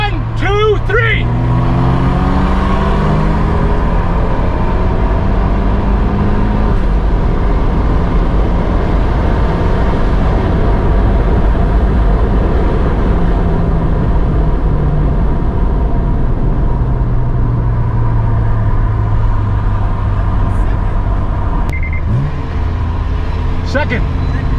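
A modified Fiat 124 Spider Abarth and a near-stock BMW E36 M3 roll-racing on the road, engines roaring loudly with rising gear-by-gear harmonics and shifts throughout, with a person talking over the noise.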